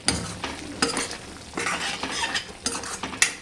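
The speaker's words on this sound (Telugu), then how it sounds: "ఇదంతా కూడా ఒకసారి ఈ విధంగా బాగా కలిపేసుకోవాలి" A vegetable curry with cinnamon and slit green chillies is stirred in a pan, a spoon scraping and clattering in irregular strokes over a soft sizzle, close and fairly quiet.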